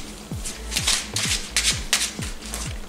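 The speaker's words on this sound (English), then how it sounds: "I'm actually shuffling better than I do with my eyes." A Yu-Gi-Oh card deck being shuffled by a blindfolded player, giving a steady run of about six soft riffling bursts close up, each a short crisp flutter, with no voices.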